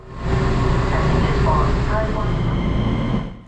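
Taiwan's new flagship limited express train accelerating, a loud, steady rumble of motors and wheels heard from inside the carriage, swelling and holding before easing off at the end.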